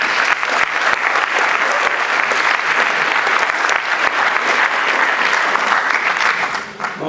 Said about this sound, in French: Je vous remercie de l'applaudir.